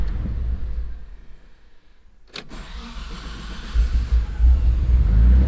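A Mitsubishi 3000GT's 6G72 V6, running an AEM Series 2 warm-start map, cranks briefly with a sharp click and catches with no throttle. It then settles into a close, rising idle rumble.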